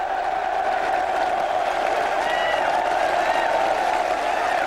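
Farnborough football supporters at the final whistle, a broad, distant roar of crowd noise with cheering and applause blended into a continuous wash, steady in level, with faint shouts rising above it.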